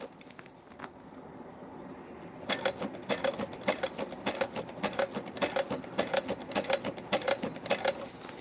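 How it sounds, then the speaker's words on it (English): Sewing machine stitching an Erica Bowler bag, a quiet start giving way to a steady run of rapid, evenly spaced mechanical needle strokes from about 2.5 seconds on, close and clear with no talk. "now I have to try to sew in the same dang hole"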